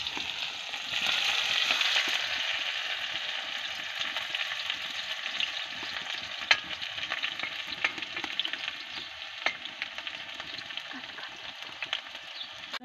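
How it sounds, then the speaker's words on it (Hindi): A small chopped onion frying in a pan, giving a steady close sizzle that runs throughout, with occasional soft clicks and scrapes of stirring; no talking. "इसके बाद हम इसमें एक छोटा सा प्याज डालेंगे, जो कि मैंने पहले ही कट कर रखा था।"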